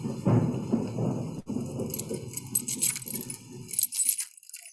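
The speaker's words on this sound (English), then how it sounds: "So we have thunder and rain. We have chains moving." Spooky effects of thunder rumbling and rain falling mixed with rattling, jangling chains, made by children's instruments for a PreK to Grade 2 class; a dense low rumble up front, then bright metallic clinks and hiss continuing throughout.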